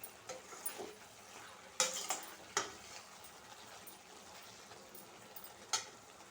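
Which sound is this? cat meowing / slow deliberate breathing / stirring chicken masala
stirring chicken masala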